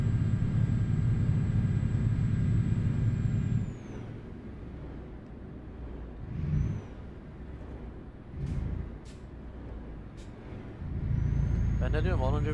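A low, steady heavy-haul truck engine drone in Euro Truck Simulator 2 with a hiss of air brakes, dropping quieter midway and rising again near the end.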